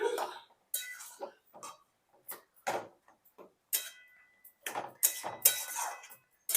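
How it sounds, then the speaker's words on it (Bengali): Greens and vegetables stirred together in a pan with a utensil, a series of sharp clinks and scrapes in an irregular rhythm, close and fairly quiet. "শাক আর সবজি এইভাবে মিশিয়ে নিচ্ছি আর হালকা করে একটু ঘেঁটে দেব"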